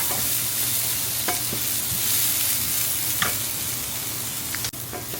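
Onions frying crisp in a pan, a loud steady sizzle with the occasional light scrape and tap of stirring, heard close with no voices over it.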